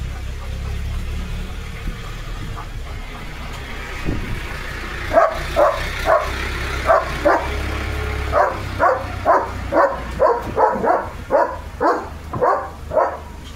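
A German Shepherd barks at a passing tractor carrying metal sheets, with a steady rhythmic run of loud, close barks over a low rumbling engine drone that begins partway through.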